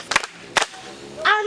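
Students in a classroom give two sharp, close claps, each a single crisp smack about half a second apart. A brief voice follows.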